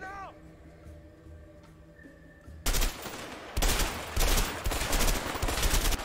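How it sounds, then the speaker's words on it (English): Machine gun fire in the co-op game A Way Out, heavy sustained bursts that begin abruptly after a quieter stretch of game ambience with brief voices, loud and close. "Machine gun up top."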